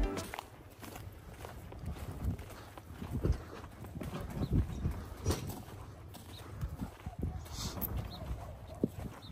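Several saddled horses walk at a festive outdoor gathering with riders aboard, their hooves clip-clopping in an uneven, overlapping rhythm at moderate distance, with a faint voice now and then in the background.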